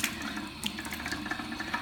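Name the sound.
splashing face with warm water to rinse off mask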